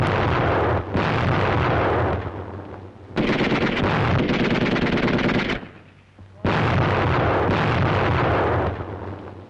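Grenade blasts and heavy gunfire erupt during a German infantry squad's charge in archival combat film, loud and dense in three long roaring bursts broken by short lulls.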